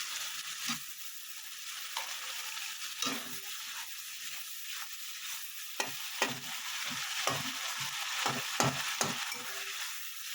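Chopped tomatoes frying with spices in a pan, a steady close sizzle punctuated by repeated sharp scrapes and clinks of a spoon stirring, with no talking.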